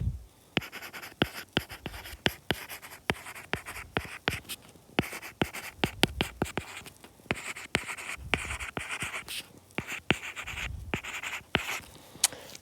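A marker or pen draws a number line on a surface, giving dense, quick scratching and tapping strokes at close range, steady and busy throughout with no voices.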